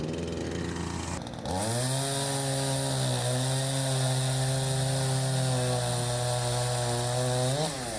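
A Craftsman 20-inch chainsaw fires up after a chain change and runs at a loud, steady high idle with a buzzing harmonic whine, briefly revving at the end.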